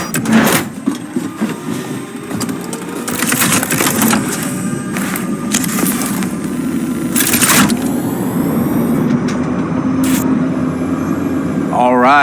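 A car engine starts and idles in the video game Cyberpunk 2077, with a rumbling low drone that builds slightly amid game effects, while characters talk over it.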